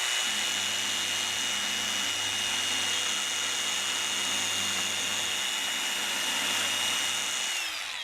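An angle grinder fitted with a Vevor diamond core drill bit runs with a loud, steady, close high-pitched whine that holds constant and then winds down slightly at the end.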